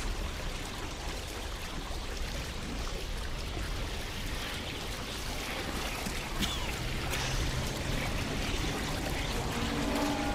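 An airplane wreck sinks into the ocean in BioShock, a continuous churning gurgle and wash of water, steady and fairly loud with no voices.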